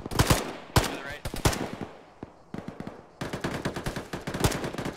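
Automatic gunfire in a military video game, with bursts of rapid sharp shots in clusters, a brief lull, then a sustained stretch of closely spaced rounds, loud and near.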